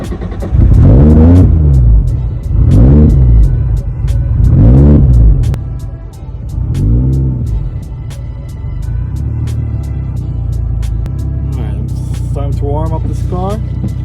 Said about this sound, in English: The moment we're just warming up the car